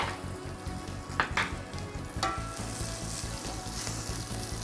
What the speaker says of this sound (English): for some extra little kick, I'm going to add some chili. This is just some dried chili flakes.